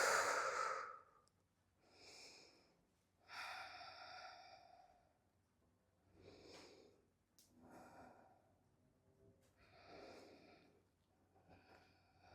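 Slow, deliberate breathing during a movement and meditation exercise: several soft airy inhales and exhales with sighing releases, spaced a few seconds apart, close and quiet.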